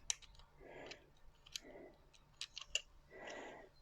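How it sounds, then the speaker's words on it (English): Scissors cutting a piece of card make several short, close crisp snips and clicks, arriving in uneven bursts, with soft rustling between them and no voices. "the piece of card that you're now cutting"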